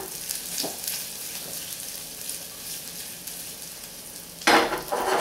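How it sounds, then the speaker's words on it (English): Garlic and ginger sizzle steadily in a hot pan, with light scraping of a utensil and a louder burst of frying near the end. "I'm just going to take a piece of ginger and let it sizzle with my garlic."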